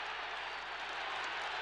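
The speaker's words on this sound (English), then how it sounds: "The crowd go wild." A rugby stadium crowd at a South Africa versus British and Irish Lions test in 1974 roars and applauds a South African try, a dense, continuous wash of cheering heard from afar.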